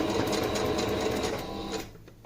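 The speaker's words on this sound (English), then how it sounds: "Matching my sewing from previously." A sewing machine stitches a cloth face mask, its close, steady mechanical whir running without pause before stopping abruptly near the end.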